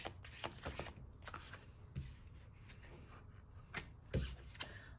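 Tarot cards shuffled by hand, a steady run of soft papery riffles and flicks with a few sharper snaps as cards are drawn, close and fairly quiet with no talking.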